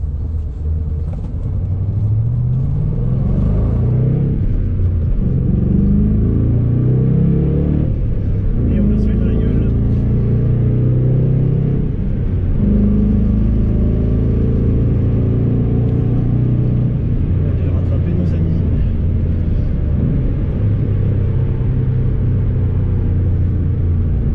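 A Ford Mustang Bullitt, lowered, driving on the road with its engine giving a deep steady rumble and mild revving throughout, loud and close, with someone talking over it.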